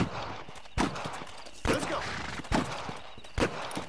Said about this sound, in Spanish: Disparos, estoy escuchando disparos.